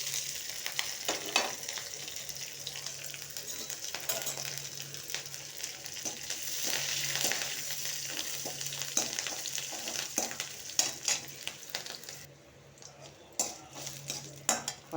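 Green chili, ginger and curry leaves frying in a pan for moor upma, a soft continuous sizzle with frequent spoon clinks and scrapes against the metal, quieter toward the end.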